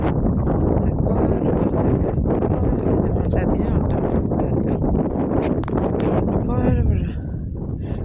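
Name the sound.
strong wind blowing by the sea in a desert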